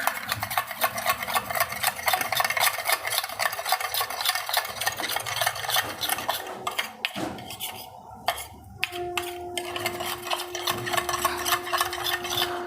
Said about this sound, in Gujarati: હવે એકદમ મિક્સ કરી લેવાનું